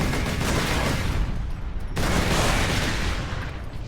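Heavy bolt gun fire in Warhammer 40K: Space Marine, a loud, dense, continuous barrage of shots with a brief break near the middle before the firing resumes, with no voices over it.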